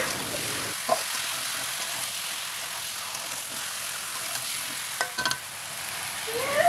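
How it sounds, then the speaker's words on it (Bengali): Chicken pieces fry and sizzle in a pan with ginger-garlic paste for a chicken and papaya curry, a steady hiss broken by a few scraping stirs, moderately quiet and close, with no talking. "আদা ও রসুন বাটা দিয়ে কিছুক্ষণ নাড়াচাড়া করে নেব।"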